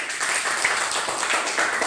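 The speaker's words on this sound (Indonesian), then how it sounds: "Oke, tepuk tangan untuk kelompok Mawar." Steady crowd applause fills the whole stretch, a dense wash of many hands clapping at once with no talking over it.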